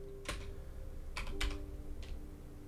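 A few quiet keystrokes on a computer keyboard as a command is typed into a software console, four brief separate taps spread over a couple of seconds against a low steady hum.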